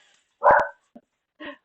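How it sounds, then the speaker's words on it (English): A dog barks in the background, with one sharp, fairly loud bark, then a short yip and a softer bark after it. Each sound is brief and separated by silence. "you can hear the dog barking in the background"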